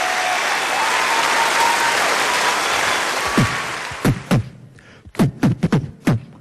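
Loud, dense applause from a stage variety-show audience fills the hall, then fades and gives way to sharp, isolated percussive thumps and pops.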